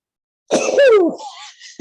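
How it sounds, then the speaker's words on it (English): A single sharp male sneeze bursts out close by, with a falling, voiced tail, then fades out before a brief second burst at the end. "here comes sneezing."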